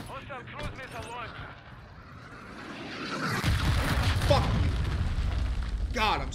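A cruise missile explodes in a Modern Warfare 2 match, heard as a heavy booming blast that swells midway and rumbles on, with game voice lines and chatter before and after.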